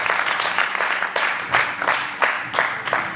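A church congregation at a Sunday celebration service applauds, producing dense, steady clapping that swells in waves with faint voices mixed in.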